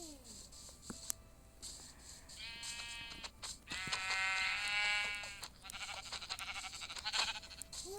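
Sheep bleating in the Minecraft video game, several drawn-out, wavering bleats in succession, fairly close and clear over a faint game background, with no talking.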